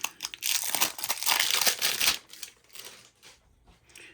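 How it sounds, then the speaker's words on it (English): A new roll of tape is pulled and unrolled at a workbench during antique radio repair, a burst of close crinkly tearing and crackling that tapers into sparse small rustles, no talk. "I'm getting me my new roll tape going."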